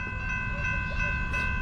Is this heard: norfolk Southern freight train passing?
yes